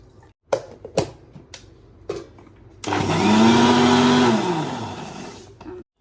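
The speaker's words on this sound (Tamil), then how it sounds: "இப்போ வந்து தேங்காய் திருவி நாங்கள் மிக்சியில் போட்டிருக்கோம்" A kitchen mixie grinds grated coconut with water, starting after a few clattering knocks and running as a loud, steady whirring roar for about three seconds before cutting off.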